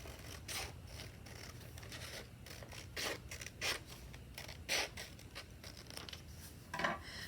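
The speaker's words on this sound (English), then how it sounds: "You just take a pair of scissors and you trim that off." Scissors snip through folded paper to cut off a strip and leave a triangle, giving a series of quiet, close, crisp cuts with short rustles between them.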